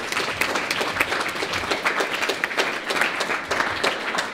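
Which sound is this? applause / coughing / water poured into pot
applause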